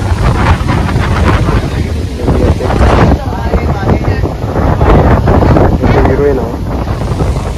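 Strong wind buffets the microphone at Karanja jetty, a loud continuous roar with gusty low rumbling that rises and falls throughout, while faint voices murmur underneath.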